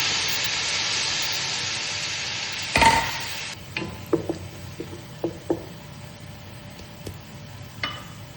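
Ground garlic and ginger sizzle in hot oil for a Pakistani meat biryani with a bright hiss that fades, followed by scattered clicks and scrapes of stirring.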